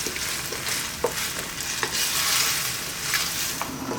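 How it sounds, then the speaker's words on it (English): Chicken potato stew cooks over medium heat while a spoon stirs the pot, giving soft sizzling under a handful of scraping strokes at an irregular pace, close and fairly quiet. "You can give it a stir every now and then."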